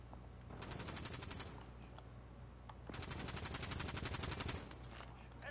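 Video game gunfire in Warzone on Rebirth Island, coming as two long, rapid automatic bursts of rattling shots with a short pause between them, fairly faint and with no talking.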